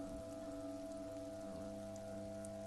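Rain falls in the Disco Elysium video game, a soft, constant hiss of drops at low volume over a faint steady background hum, with no voices.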